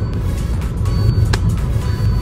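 Car cruising at high speed on a road, a steady loud rumble of engine and road noise with a brief whoosh midway and no talking.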